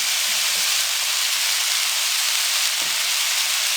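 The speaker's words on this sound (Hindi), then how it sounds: "अब इसको हम 1 से 2 मिनट के लिए भून लेंगे। बिल्कुल लो फ्लेम पे इनको भून लेंगे।" Mashed boiled potatoes fry in a pan over a low flame, giving a steady, loud, broadband sizzle that never lets up, with a faint soft clink or two and no voices.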